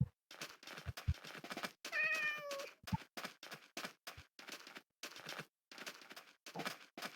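A Minecraft cat meows repeatedly in short, close cries with brief pauses between them, one longer drawn-out meow near the middle and a few clicks at the start.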